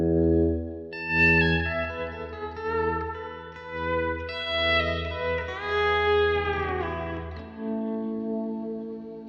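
A guitar runs through the reverb of a Bad Cat Black Cat amp on channel 1, playing slow volume-swelled chords and notes that bloom and ring out with lush, lingering tails, with no talking.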